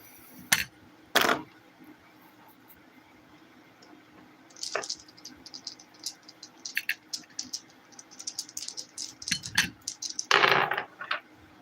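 Dice clatter and tumble on a hard surface during a tarot reading, a couple of sharp rattles early on, then a longer run of small clicks and taps ending in a louder scatter of dice, close and without talk.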